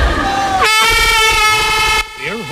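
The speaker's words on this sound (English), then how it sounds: "The air horn sounds and the contestants begin." A single loud air horn blast holds for over a second, then cuts off abruptly at the start of a garbage-collecting contest, leaving crowd murmur.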